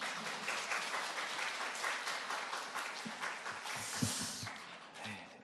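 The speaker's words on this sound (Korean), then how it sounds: "우리 나오실 때 크게 박수로 환영하겠습니다" A church congregation at a Sunday afternoon worship service applauds to welcome a visiting pastor to the front, a dense, steady round of clapping that carries on for several seconds with a few louder claps near the end.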